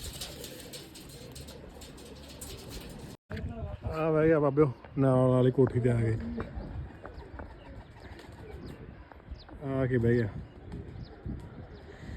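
Racing pigeons coo on a neighbouring rooftop in a few loud, close, drawn-out bursts with pauses between them, mixed with a voice calling out.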